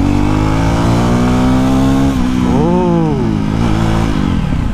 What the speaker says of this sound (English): acceleration in low RPM is awesome in this bike. Look at this pull.